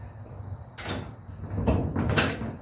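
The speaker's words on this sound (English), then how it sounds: "If you want to lock it, it locks fine." Metal truck box lid and lock being worked, a few sharp clunks and latching rattles in close succession, loud and near, with no talk.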